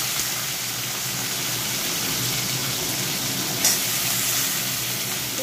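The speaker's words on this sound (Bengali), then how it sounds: "এর মধ্যে বাকি সবজিগুলো দিয়ে ভেজে নেব।" Vegetables frying in a pan give a steady, dense sizzle that holds level throughout, with a brief clink partway, close and without talk.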